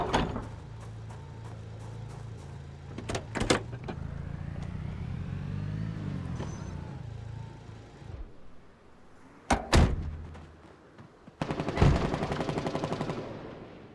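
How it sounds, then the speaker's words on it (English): Bursts of rapid automatic gunfire crack out in short volleys between stretches of mechanical whirring and clanking, loud and close. "Just rapid gunfire?"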